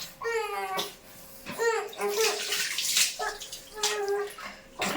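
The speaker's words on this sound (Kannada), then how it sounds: "ನನ್ನ ತಮ್ಮ ಮಗುವನ್ನು ಸ್ನಾನ ಮಾಡಿಸ್ತಿದ್ದಾನೆ" A baby is bathed in a tub of warm water, with repeated splashing and pouring bursts interleaved with a child's babbling and soft vocal sounds close by.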